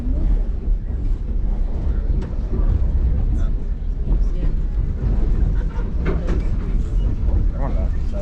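Nevada Northern Railway train rolling along in Ely, Nevada, a steady low rumble heard from on board, continuous and fairly loud, with people talking over it.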